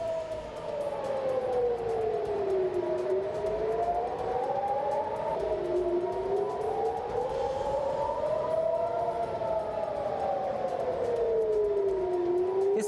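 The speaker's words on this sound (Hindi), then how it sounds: "ये है युद्ध का सायरन, ये है मिसाइल हमले का सायरन।" A loud air-raid warning siren for an incoming missile attack wails continuously, its pitch slowly rising and falling in long cycles, with no voices.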